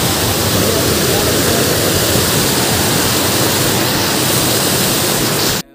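Waterfall at Jack Well in Namrup, Assam, a loud, steady roar of falling water that fills the whole clip without a break.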